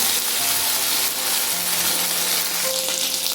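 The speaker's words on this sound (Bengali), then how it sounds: "মশলাগুলোকে একসাথে ভালো করে কষিয়ে নিচ্ছি।" Spices, slit green chillies and ginger paste fry together in a pan for a chana paneer masala, giving a steady, close, loud sizzle with faint stirring scrapes and no voices.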